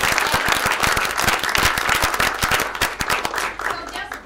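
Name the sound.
audience applause for Howard School students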